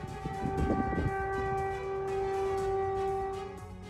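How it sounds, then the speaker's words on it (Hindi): A sustained civil-defense air raid siren in Ukraine drones on a steady pitch, somewhat distant, with low rumbling noise beneath it. "अलर्ट सायरन भी बजता रहा।"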